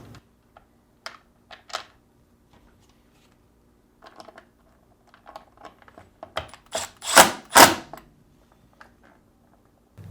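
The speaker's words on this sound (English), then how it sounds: "Next, reinstall the plastic hinge cover." A plastic hinge cover is pressed back onto a Whirlpool refrigerator door, producing scattered small plastic clicks and taps that build to a few louder, close snapping rattles near the end.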